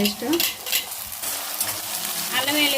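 Onions, green chilies and tomatoes sizzle and fry in a pan while a utensil stirs and scrapes, close and continuous with steady crackling throughout.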